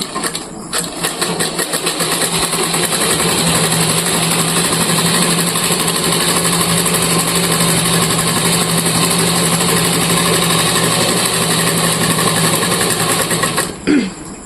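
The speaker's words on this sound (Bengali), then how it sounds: "এটাকে যে এখানে এইরকম করে সেলাই করলাম" A sewing machine runs steadily and loudly up close as it stitches a bag made from cement sacks, a continuous mechanical whir that lasts about thirteen seconds before stopping abruptly.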